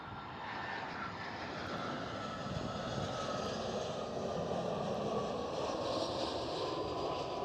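An Airbus A320 airliner lands at Amsterdam Schiphol, a steady, loud jet engine roar with a broad rushing tone that holds and swells slightly as it passes, with no one talking.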